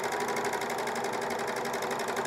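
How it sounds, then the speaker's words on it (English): A sewing machine runs steadily, stitching fold-over elastic onto a camisole strap, its rapid even needle rhythm close and continuous with no talk. "just sew it"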